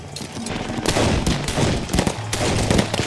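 Battle gunfire effect, dense bursts of shots and rapid fire overlapping into a loud, continuous fusillade for about three seconds with no voices.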